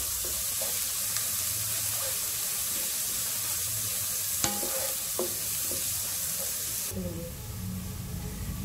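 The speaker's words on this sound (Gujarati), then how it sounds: "હવે આપણે ક્રશ કરેલું લસણ નાખશું." Crushed garlic frying in a pan gives a loud, steady, close sizzle with occasional stirring clicks, the crackle brightening toward the end.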